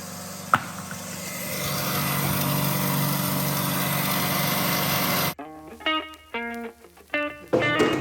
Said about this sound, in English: Wanna see how it does off-road, pulling it behind the four-wheeler